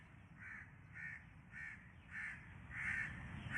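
Crows cawing in a steady series of about six harsh calls, a few metres off in the background over a low ambient rumble, each caw short and evenly spaced, the last ones slightly louder.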